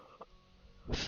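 A single sharp, noisy sneeze bursts out near the end, loud against a quiet room background, with a small throaty sound earlier, during a French-language game stream.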